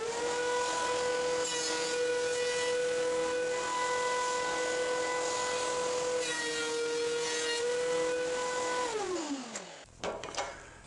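A wood block is fed through the spinning cutter head of a planer: a loud, steady machine whine with gritty cutting noise, then the motor winds down and falls away near the end.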